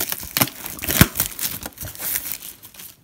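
Scissors snip and crinkle through the plastic wrapper of a 2018 Panini Classics football hobby box, giving a series of close, irregular crackling and crumpling bursts with no talk.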